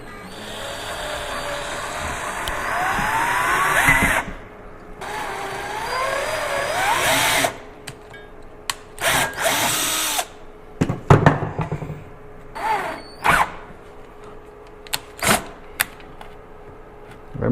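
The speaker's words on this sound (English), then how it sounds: "this wood here will give me something for that bit to drill into. I'm actually making this hole bigger" Power drill with a bit boring into wood to enlarge a hole during a motorcycle power outlet install on a Honda XR650L, whining bursts that stop and restart, ending in short intermittent pulses, close up.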